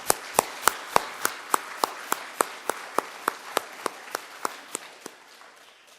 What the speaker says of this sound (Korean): 우리 박수 한번 하십시오